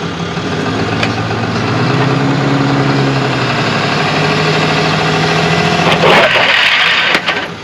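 A vehicle idles and creeps forward onto a weighbridge: a steady, loud engine rumble throughout, rising slightly as it moves, with a few clunks near the end.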